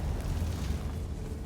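A Confringo fire spell blasts in Hogwarts Legacy, a dense, roaring burst with a deep low rumble that holds steady and loud for about a second and a half.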